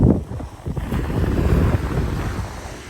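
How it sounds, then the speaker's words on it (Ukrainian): Steady gusty wind buffeting the microphone outdoors on a beach, a low roaring rumble with no voices. "просто здуває вітер"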